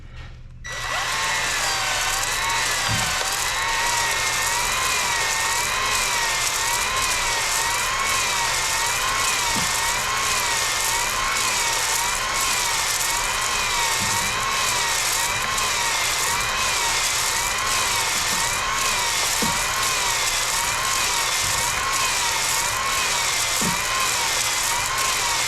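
A power drill at its slowest speed spins a cylinder hone inside a Jeep Wrangler 3.8-litre six-cylinder bore with the engine still in place, giving a steady loud whine with faint periodic knocks for about 25 seconds.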